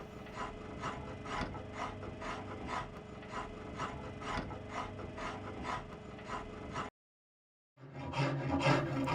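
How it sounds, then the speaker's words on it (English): A harsh farrier's rasp and scraper work along a self yew longbow's sapwood and heartwood, giving close, steady rhythmic rasping strokes about twice a second, briefly stopping before resuming with no voices. "using the scraper on the more delicate sapwood and the harsher farrier's rasp on the heartwood, I removed the wood between those lines"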